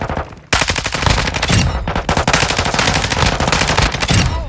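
Lachmann 556 submachine gun firing in Call of Duty: Modern Warfare II, loud sustained automatic bursts in a rapid, almost unbroken stream after a brief quiet start.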